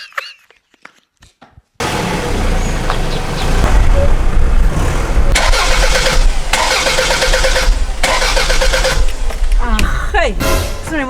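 A car engine cranks and starts, giving a loud sudden burst and then a rough, pulsing run, after a quiet stretch of faint clicks, with people talking over it.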